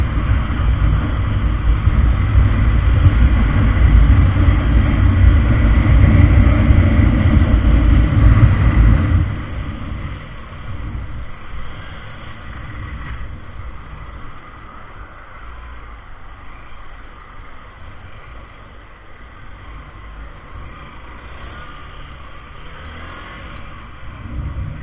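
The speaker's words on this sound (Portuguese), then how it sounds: "Finaleira alta, parece uma corrida de moto." A motorcycle with a loud aftermarket exhaust revs hard, a dense roaring engine drone that holds strong for several seconds and then falls back to a lower, steadier running sound.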